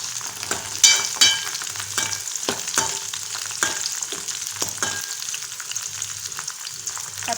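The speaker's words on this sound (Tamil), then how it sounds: "பச்சை மிளகா கொஞ்சம் வதங்கணும்." Green chillies sauté in hot oil with browned garlic for a garlic gravy, giving a steady close sizzle broken by stirring scrapes, with no talking.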